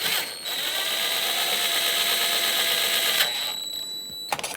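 A power tool whirs steadily with a high whine while tightening the battery hold-down bracket bolts on a 2012–2018 Nissan Altima, running for about three seconds before stopping.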